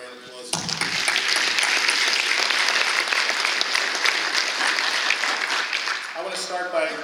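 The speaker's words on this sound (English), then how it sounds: "I think we ought to give him a round of applause" Sustained audience applause at a winter sports awards evening, a dense, loud wash of clapping that starts abruptly after a brief moment and runs steadily before tapering at the end, with a voice emerging as it fades.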